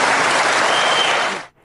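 Debate audience applauding in a sustained, dense burst of clapping that fills the hall, then fades out abruptly near the end.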